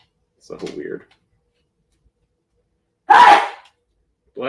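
A short sneeze bursts out early, followed a couple of seconds later by a louder, sharp sneeze-like burst, then another brief sound at the end.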